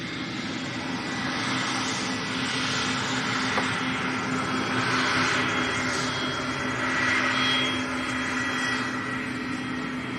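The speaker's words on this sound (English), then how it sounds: "Cessna Citation 550. Slovenian registered." Cessna Citation 550 business jet, Slovenian-registered, at Lanzarote Airport, a steady broadband jet roar with a whining tone, heard at moderate distance and swelling slightly as it moves, with no talk over it.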